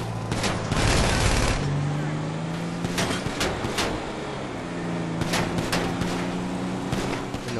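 Gunfire in Grand Theft Auto V, several sharp shots and bursts scattered across a steady background of engine and game ambience, with a humming motor tone running underneath.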